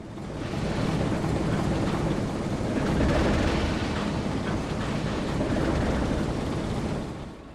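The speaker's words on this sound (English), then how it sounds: "the train departs westbound for Allegheny with the 3004 in the lead" A P&B Pacific steam train in the Trainz simulator departs westbound for Allegheny behind locomotive 3004, producing a steady, loud rumble of wheels and rolling cars that holds evenly throughout with slight swells and no voices.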